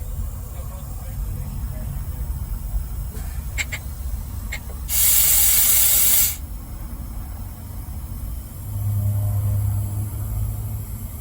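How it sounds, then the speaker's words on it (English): On an MCI MC5a bus, the parking brake releases as a sudden loud burst of compressed air that lasts about a second, then cuts off. An idling engine rumbles underneath, with a low hum coming up afterward. "step on the brake and release the parking brake"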